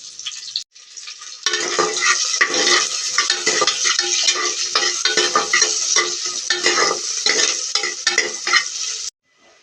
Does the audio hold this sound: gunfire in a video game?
no